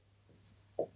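A marker or chalk scrapes on a board in a quiet room: one short, faint squeak of writing stands out against near silence.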